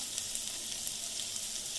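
Chicken biryani masala fries in a pan with a soft, continuous crackling sizzle and scattered small pops, quiet and steady, with no talking.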